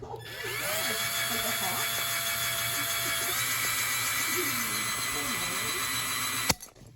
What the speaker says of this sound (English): I had the idea to drill holes to make it easier to cut all the way through